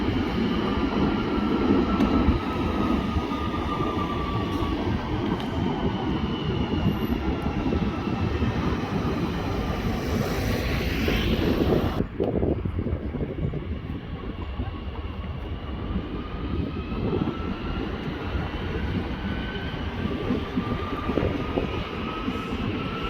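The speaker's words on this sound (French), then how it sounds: "Ça veut dire qu'il y a possiblement un train de fret qui arrive." A freight train rolls along a rail service track at Val d'Argenteuil, a steady loud rumble with faint tonal squeals that holds throughout and eases slightly partway through.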